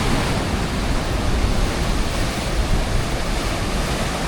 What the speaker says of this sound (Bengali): হঠাৎ করে একটু বড় ঢেউ এসে গেছে।